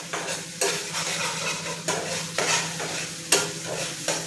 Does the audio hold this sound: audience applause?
no